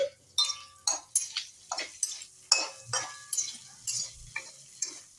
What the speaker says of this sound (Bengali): এখন এটা কষানো হচ্ছে